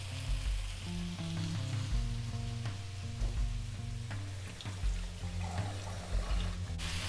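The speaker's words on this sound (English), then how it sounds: "We'll add some bean sprouts now." Bean sprouts sizzle and crackle in a hot wok for chicken with cashew nuts, a loud continuous frying hiss with stirring scrapes over background music.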